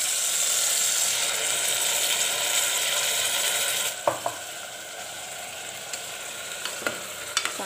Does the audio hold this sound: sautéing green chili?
yes